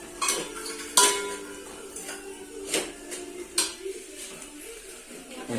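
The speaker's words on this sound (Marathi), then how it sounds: "आता पूर्ण तेलात परतून घ्यायचं" Turmeric masala is stirred in hot oil with a metal spoon, which clinks and scrapes against the pan in irregular bursts over a low, quiet sizzle.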